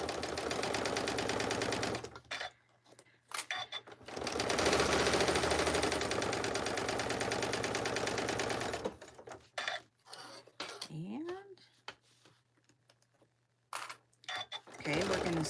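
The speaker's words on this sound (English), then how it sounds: "we're going to sew over now our handle here, which I will probably go ahead and back stitch over" A sewing machine stitches a zippered pouch in loud, rapid bursts of clattering, broken by pauses and handling noise, with a brief voice in the background.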